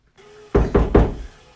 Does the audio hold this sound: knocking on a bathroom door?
yes